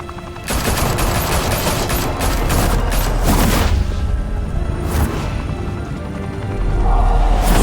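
Video game gunfire in Telltale Batman: a dense, loud fusillade of overlapping shots and booms that rolls on continuously, with rapid bursts and a swelling roar toward the end, no speech.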